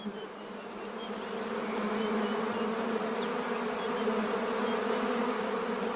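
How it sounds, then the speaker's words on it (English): A dense, steady drone of many honeybees buzzing together at a hive in a hollow baobab limb, continuous and fairly loud, with no voices. "One of the baobab's hollow limbs makes the perfect home for their hive."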